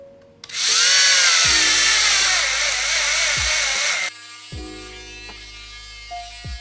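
An electric drill fitted with a 3/16 drill bit whines loudly for about three seconds, then winds down, and several dull knocks and thuds follow.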